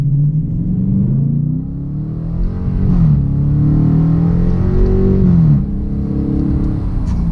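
A 2018 Dodge Challenger R/T Shaker engine revs up in first gear, rumbling loudly with rising pitch, briefly easing off and pulling again before settling; close and forceful.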